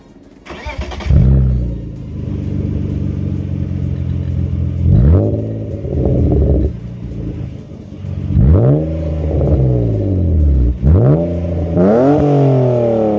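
Engine of a drift car started and revved repeatedly, loud and close, with sharp rising throttle blips over a steady rumbling idle and no talking.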